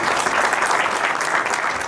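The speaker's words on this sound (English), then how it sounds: "A nice round of applause is just going to make them more happy" Dense, loud applause from an audience fills the whole brief moment, a continuous wash of many hands clapping at once.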